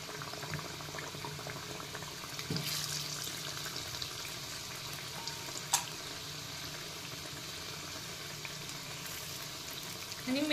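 Thin-sliced potato fritters (bhaji), street-cart style, frying in hot oil give a steady soft sizzle and bubbling throughout, with no voices.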